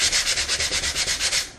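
Steady rhythmic rasping of 150 grit sandpaper rubbed back and forth by hand on a glove box, about a dozen quick even strokes, close up with no talking.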